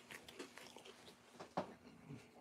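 Someone bites into a thin, crispy waffle cooked in a vintage Rival waffle maker, giving a few quiet crunchy bites and chewing sounds close by with no talking.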